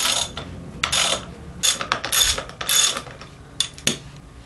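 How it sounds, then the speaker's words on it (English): A wrench ratchets loose the nut at the bottom of a Showa fork on a CR 250 motorcycle, with several loud bursts of close, rapid clicking separated by short pauses. "Simply take the wrench. Oh, sometimes it's kind of tight. We're going to want to undo that nut all the way."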